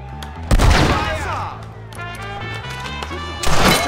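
Gunshots fired at locks in the Red Dead Redemption video game on PC, two loud broadband blasts about three seconds apart over a steady game soundtrack, with a voice briefly talking.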